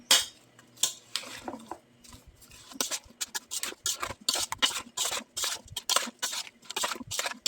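Cucumber salad with sunflower oil and vinegar is stirred in a bowl, giving a quick series of close clinks, scrapes and wet patters of a utensil against the dish, with no speech.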